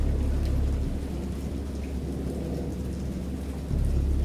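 Steady rain pours with deep, continuous thunder rumbling through it in the horror game Dagon, loud and unbroken, with a brief swell of low rumble near the end.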